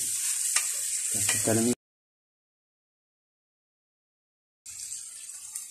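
Masala and tomatoes for keema curry sizzle and crackle steadily in a pan with a brief scrape of stirring. The sound cuts out to silence for about three seconds, then the frying resumes.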